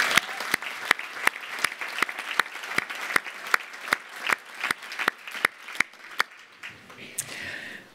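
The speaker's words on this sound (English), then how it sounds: "a really big round of applause to all of those teams" Audience applause at a graduation ceremony: steady crowd clapping with a few sharp, evenly spaced loud claps standing out near the front, thinning and fading out toward the end.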